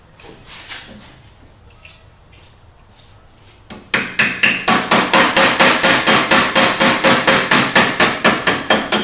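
Roll pin hammered out of a Simplicity Coronet rear engine rider mower: after a quiet stretch of faint tapping, a steady run of loud, close metallic hammer strikes follows in quick, even rhythm, with no talk.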